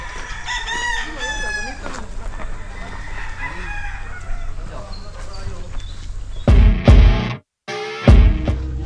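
Chickens cluck and a rooster crows in a backyard near Mount Banahaw in the Philippines, with pullets among the flock. Layered calls run throughout, and loud close bursts come near the end over faint voices.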